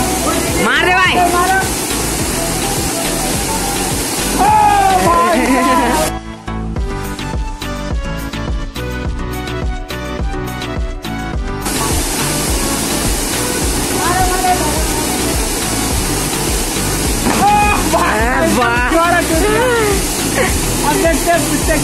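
A waterfall at Jaigaon on the West Bengal–Bhutan border gives off a loud, continuous roar of crashing water, with people talking over it and a short stretch where the water noise drops under a brief musical passage.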